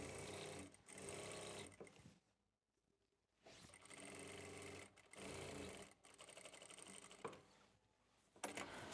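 A sewing machine stitches the seat seam on the front panel of a sharara in several fast, rattling bursts separated by brief silent pauses, close and clear with no speech.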